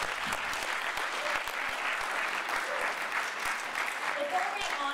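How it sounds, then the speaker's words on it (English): A full audience at a high school awards event applauds students, producing sustained, dense clapping at an even level throughout, with a few cheers and voices mixed in. "Give them a round of applause."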